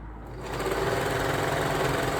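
A sewing machine stitches elastic onto raw fabric edges of a leotard, a steady, close mechanical whir that builds quickly and runs continuously without talk.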